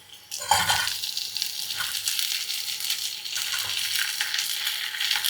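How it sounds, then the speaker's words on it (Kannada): Sliced white bok choy stems frying in a pan with garlic, opening with a sharp splash as they hit the oil, then a steady close sizzle and crackle that holds throughout. "ಇದು ಒಂದು 3 to 4 ಮಿನಿಟ್ಸ್ ಚೆನ್ನಾಗಿ ಫ್ರೈ ಆಗಲಿ"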